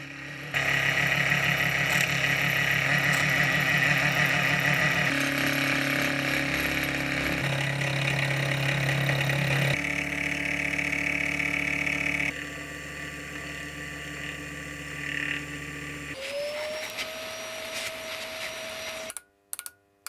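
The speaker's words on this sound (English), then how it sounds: "before milling a step to register the top jaws on the base jaws." An end mill cuts registration steps into steel lathe chuck jaws for a mini lathe, giving a loud, steady machining whine and rumble that shifts pitch between passes before the spindle winds down near the end.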